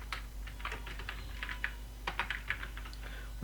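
Fingers tap out bursts of keystrokes on a computer keyboard, close and crisp clicks in uneven clusters with short gaps, no voice heard.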